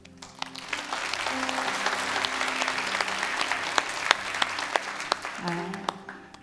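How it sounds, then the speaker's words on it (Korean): A church congregation applauds warmly to welcome a pastor during Sunday worship in Irvine, a dense, steady wash of many hands clapping throughout, with a voice speaking faintly over it near the end. "여러분 뜨거운 사랑의 박수로 목사님 맞이하도록 하겠습니다"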